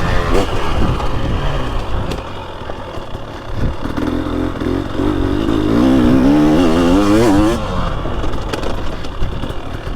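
A 2023 Husqvarna TX300 motorcycle with WP Pro Components suspension rides a dry, choppy moto track, its engine close and loud, revving up and down with rising pitch sweeps and clattering over rough ground.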